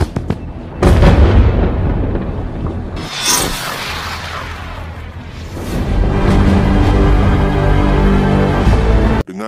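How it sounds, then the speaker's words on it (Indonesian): Signal flares launching in the film The Blackout (2019), heard as loud booming bursts and whooshing rushes layered with rumbling, dense and sustained across the scene. "suar warna ungu yang meluncur ke pangkalan tadi jumlahnya banyak sekali"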